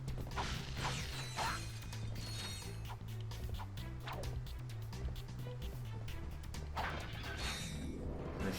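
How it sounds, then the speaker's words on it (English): Ammo crates smashed in Ratchet & Clank: Going Commando, with repeated sharp whooshing cracks and breaking clatter over a dense, steady game soundtrack. "I will break the ammo crates even if I don't need them, just to be on the safe side"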